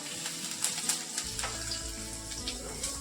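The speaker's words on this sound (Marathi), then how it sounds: "आता हे तेल छान गरम झालंय त्यात आपण घालतोय लसूण" Finely sliced garlic dropped into hot oil for chilli paneer, giving a steady close sizzle and bubbling that thickens after a moment, with soft crackles on top.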